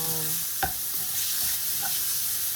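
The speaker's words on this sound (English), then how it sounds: "fry it until the mince is all cooked and a little bit dark brown" Lamb mince fries in a pan with a steady, close sizzling hiss, broken by a brief scrape or stir near the start and a few soft clicks, no voices.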